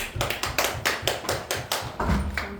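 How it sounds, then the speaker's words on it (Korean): Worshippers at a Korean Sunday church service clap together in unison, about eight crisp, evenly spaced claps in a steady rhythm, moderately close. "박수하겠습니다."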